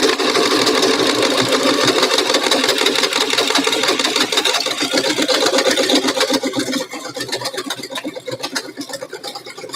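An electric sewing machine runs steadily through fabric while back-stitching a cloth face mask, a loud continuous buzzing whir that eases slightly and turns choppier near the end, with no talking.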